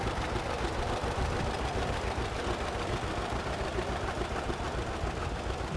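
A 1944 John Deere A tractor engine runs steadily at an outdoor old-iron parade of power, a dense, continuous low rumble that holds even and close throughout with no pauses.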